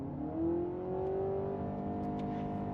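A 2025 Honda Civic Hybrid Sport Touring with a CVT revs its engine during a brake-torqued full-throttle launch, giving a steady rising drone that swells near the start and holds with no talk over it.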